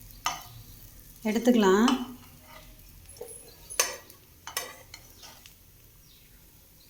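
Black chickpea patties fry in a pan and get flipped. Scattered clinks and scrapes of a utensil sound against the pan over a soft sizzle, and someone speaks briefly in Tamil.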